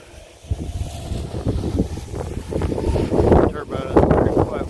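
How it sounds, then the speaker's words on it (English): Gusty wind buffets and rumbles against the microphone in uneven surges, growing stronger toward the end, with a voice partly under it. "it's pretty windy today"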